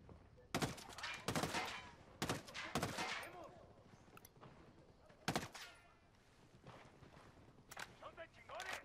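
Sharp bursts of gunfire in Ghost Recon Wildlands crack out in irregular clusters, loud and close, with voices talking between and under the shots.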